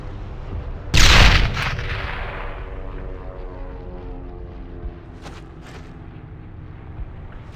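A single heavy grenade blast in the World War II shooter Brothers In Arms: Earned In Blood, loud and close, decaying into a long rumbling tail, followed by a few faint, distant gunshots.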